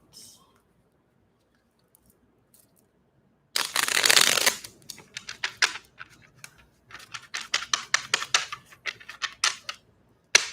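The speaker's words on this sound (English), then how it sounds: "a few more shuffles and then we'll get to it" A deck of tarot cards being shuffled close up: one long riffling burst, then a run of quick, crisp card snaps and taps in irregular rhythm.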